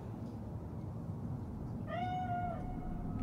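A cat meows once in the Cyberpunk 2077 video game, a clear rising-then-falling call that enters partway through over a steady low background hum and trails off near the end.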